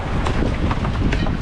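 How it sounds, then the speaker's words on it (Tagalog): Steady wind gusts over the Pacific in rainy weather, a broad continuous rush buffeting the microphone with low roar throughout. "Ngayon po ay maulan at mahangin ngayon dito sa Pacific"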